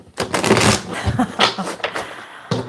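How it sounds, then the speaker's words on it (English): Tarot cards being shuffled by hand: a dense, papery riffling and sliding that runs continuously and close up, rising and falling in bursts, with a voice briefly audible near the end. "let me do another shuffle"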